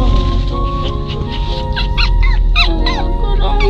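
A dog whimpers and whines inside a moving car, high wavering cries repeating over a steady engine rumble, close and fairly loud.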